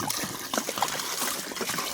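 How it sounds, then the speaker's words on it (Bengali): Vegetables rinsed under a running tap, a soft steady trickle and splash of water with faint clatter, fairly quiet, no talking. "সবজিগুলো সুন্দরভাবে ধুয়ে নেওয়া যাবে।"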